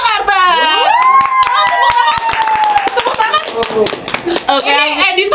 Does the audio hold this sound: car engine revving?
no